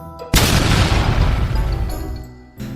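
A loud, sudden boom from a smoke explosion in the video game Bopl Battle, bursting at once and then rolling into a dense, crackling wash of noise that fades slowly over about two seconds.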